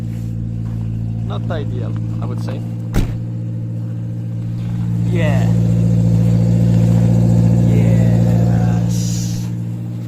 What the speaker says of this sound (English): So it's a little bit noisy. It's because the exhaust is a little bit